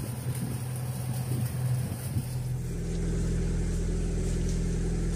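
A fishing boat's engine approaches a bagan fishing platform at Wotu, a low steady drone that grows louder and fuller halfway through and then holds as a continuous rumble.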